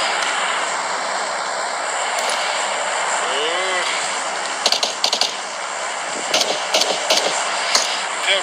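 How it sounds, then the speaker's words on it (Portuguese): A droning airplane engine hums under PUBG's noisy game ambience, with sharp clicks and gunfire bursts cutting in near the end; voices are faint. "Tem um barulho de avião."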